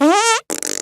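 Two loud, close farts: a long rising, buzzy one that cuts off sharply, then after a short gap a rougher, sputtering burst, with no talk.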